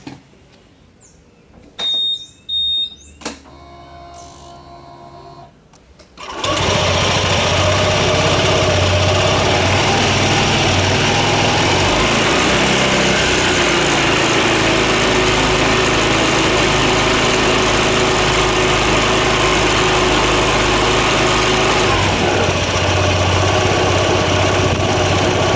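Honda ADV scooter engine started after a gear oil change. After a few faint clicks and handling noises, it catches and runs at a loud, steady idle with a buzzing drone until the end.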